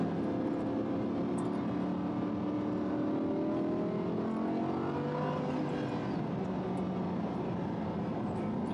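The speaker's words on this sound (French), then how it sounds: "dès qu'on arrive en haut, elle change de vitesse. Voilà, tout seul." A car climbs under steady engine load, its pitch rising and then resetting as the gearbox shifts up on its own at the top of the climb. The sound is continuous and fairly loud, with no voices.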